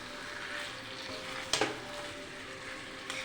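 Mango-marinated chicken sautéing in a covered pan over low heat gives a steady, close sizzle, broken by one sharp utensil clink and a fainter knock later.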